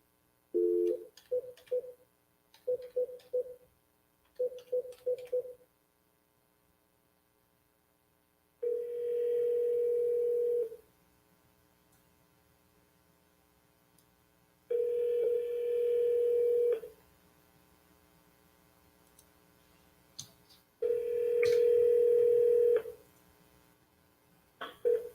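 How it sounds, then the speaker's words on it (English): A phone line carries a run of short DTMF dialing tones in three quick clusters, followed by three long, steady beeps separated by silence, clear and close. "Let's get to dialing."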